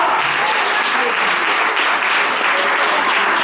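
A church congregation gives a continuous round of applause, dense and steady clapping from many hands filling the whole stretch without a break.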